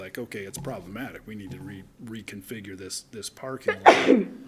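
A single loud sneeze bursts out near the end of continuous talk at a city planning commission meeting, rising sharply above the voices in the room.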